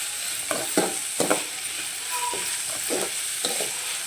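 Onions sautéing in a pan with a little salt for a drumstick-leaf stir-fry, a soft steady sizzle broken by several scraping stirs of a spatula at close range, with no talking.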